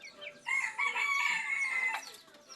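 A bantam chicken crows once in a thin, raspy call, fairly close, with a quiet pause before it and soft clucking after.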